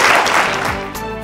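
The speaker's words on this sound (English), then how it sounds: "Everyone give them a round of applause." Applause from an audience at a catering event, a short round of clapping that fades quickly as a tonal sound rises behind it.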